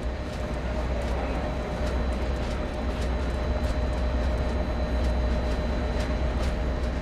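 A train in Train Sim World 2 on a Boston rush-hour service pulls away, giving a steady, even rumble and rolling noise with faint metallic ticks throughout, with no pauses.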